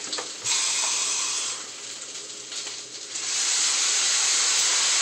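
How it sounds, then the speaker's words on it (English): A loud, steady hiss of hot liquid sizzling in a pan, dipping briefly in the middle before surging back to full strength. "Sizzle, sizzle, hot, hot."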